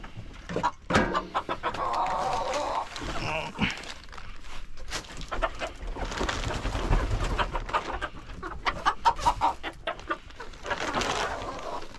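Chickens, including a rooster, cluck and squawk nearby at a construction site amid rustling and scattered noises, with occasional voices in the background.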